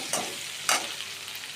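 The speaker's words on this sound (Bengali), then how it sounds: "এই যে আলুটা হয়ে গেছে ভাজা" Potatoes frying in a pan: a steady, hissing sizzle close up, with two short scraping stirs cutting through the continuous bubbling, no voices.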